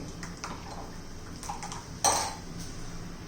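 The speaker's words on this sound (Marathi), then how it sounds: "मी तवा गरम करण्यासाठी ठेवते" A tawa griddle is set down on a kitchen stove to heat, giving one sharp metallic clank with a brief ring in a quiet room.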